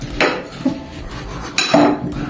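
Metal fork pressed into a raw onion in a kitchen, two brief cutlery clinks and scraping contacts about a second and a half apart, close and fairly loud with no talking.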